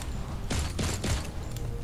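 Pistol shots from an Iron Man Android video game, three sharp bursts in quick succession over a low background rumble, with no talk.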